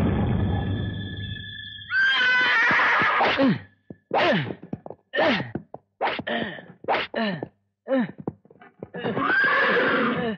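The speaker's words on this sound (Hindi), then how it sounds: "मालिक, घोड़े आगे बढ़ी नहीं रहे।" A horse whinnies loudly and up close, first a long neigh followed by a string of shorter whinnying bursts with brief gaps, ending in another drawn-out call.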